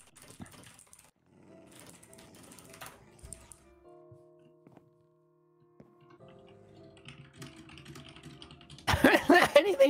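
A dog in the Minecraft video game growls and makes other sounds amid soft keyboard typing and clicks, ending in a sudden loud burst of game noise.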